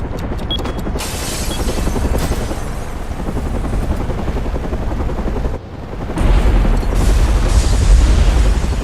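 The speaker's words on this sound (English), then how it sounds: "Where there has just been a massive explosion." Loud explosions and fireworks from the Batman: Arkham Origins video game, with dense booming blasts and crackling bursts throughout, a brief dip near the middle and then a heavier rumbling surge that carries on to the end.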